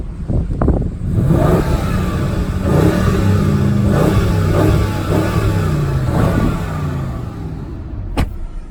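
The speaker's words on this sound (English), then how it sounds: "Then bring it to Sport so we can hear that M Sport exhaust." A 2020 BMW 750i xDrive V8 with M Sport exhaust, switched into Sport mode, revs steadily and loudly up close, its engine note rising and falling through several pulls before a short sharp blip near the end.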